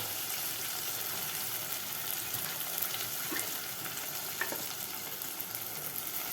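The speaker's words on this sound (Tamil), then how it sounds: "நான் எப்போவுமே இந்த பிரியாணிகளுக்கு தக்காளி, புதினா, மல்லி 3யுமே அரைச்சி ஊற்றுறது வழக்கம்." A ground paste of tomato, mint and coriander sizzling in a clay pot for vegetable biryani, a loud continuous close frying hiss with a few faint stirring scrapes.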